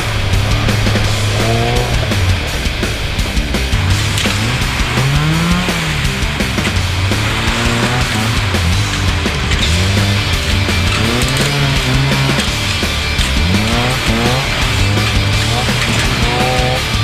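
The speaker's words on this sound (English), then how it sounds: "we're going to be taking a look at some demonstrations of some extreme 4-wheel driving." Off-road vehicles in an extreme 4-wheel driving demonstration at an agricultural show roar loudly and continuously, engines revving up and down in repeated surges with no talk over them.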